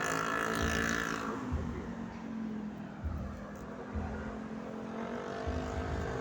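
Highway traffic in San Fernando, Pampanga at about 4:30 in the morning: a steady, loud roar of passing engines with a low rumble and shifting tire noise, no pauses and no talk.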